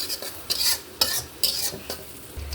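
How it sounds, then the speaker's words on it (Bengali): Onions for lentil dal fry in a pan while a spatula stirs them in brisk scraping strokes, about four rhythmic bursts over a soft background sizzle, with no voices. "পেঁয়াজটাকে ভালো করে এখন ভাজা করে নেবো"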